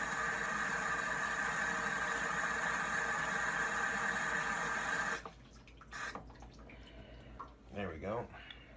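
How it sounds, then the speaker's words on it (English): Cold water runs steadily from a tap into a container of noodles for about five seconds, then stops, followed by a few brief clatters and a voice speaking. "Put in some cold water."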